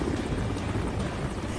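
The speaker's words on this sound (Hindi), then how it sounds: "गंगोत्री क्रूज की तरफ MI-17 हेलीकॉप्टर मंडरा रहा है।" An MI-17 helicopter hovers near the Gangotri cruise boat during a security alert in Varanasi, its rotor throbbing as a dense, steady roar with no gaps, continuous and fairly loud across the whole stretch.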